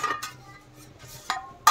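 A metal lid clinks and rattles as it is lifted off a pot of steaming sweet corn momos, giving a few short, close metallic taps with a quiet pause between them.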